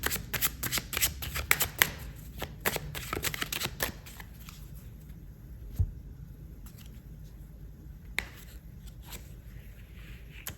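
A deck of tarot cards being shuffled close by, with bursts of quick riffling and rapid crisp card flicks early on that thin into sparser soft taps and slides later.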